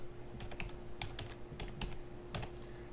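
Quiet keystrokes on a computer keyboard tap out text in short, irregular clusters over a faint steady hum, close by and with no voices.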